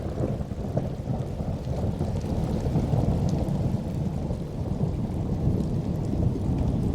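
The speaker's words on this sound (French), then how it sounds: "la pluie s'abat sur l'ensemble du littoral du golfe du Lion" Heavy rain pours down steadily on the Gulf of Lion coast, with deep rolling thunder rumbling beneath a dense, continuous hiss of falling water for the whole stretch.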